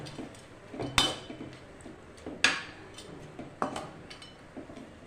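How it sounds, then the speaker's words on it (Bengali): Prawns cooking in a pan as they are stirred: three sharp metallic spatula knocks against the pan, spaced about a second and a half apart, over light scraping and faint sizzling, close and without speech. "চলো এবার আমি চিংড়ি মাছটাকে ঢেলে দিচ্ছি।"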